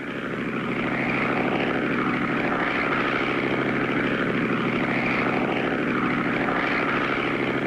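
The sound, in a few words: crop duster airplane spraying cotton fields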